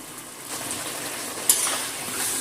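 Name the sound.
frying tomato, ginger and green chilli paste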